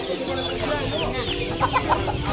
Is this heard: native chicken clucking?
yes